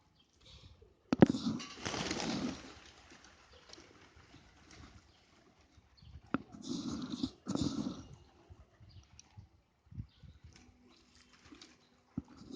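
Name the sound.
birds, pigeons, gathering to eat scattered grains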